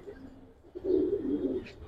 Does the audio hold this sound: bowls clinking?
no